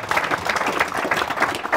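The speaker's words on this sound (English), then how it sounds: "Let's give Megan a round of applause" A short burst of audience applause at a public conversation event, clapping from a modest crowd with uneven rhythm, fairly close and alone without talk.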